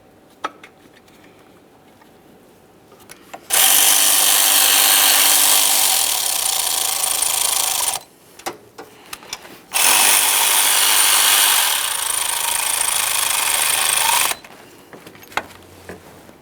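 A power tool runs down the two 12mm mounting bolts of a camshaft position sensor on a 2007-2013 Acura MDX, giving two long, loud, steady whirring bursts separated by a short quiet pause.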